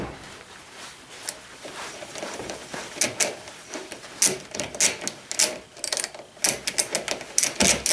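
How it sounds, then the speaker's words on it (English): A ratchet wrench clicks in uneven bursts while removing 10 mm bolts during the teardown of a 15 HP Powerfist small engine, sharp close mechanical ticks that grow busier toward the end. "Ratchet sounding weird."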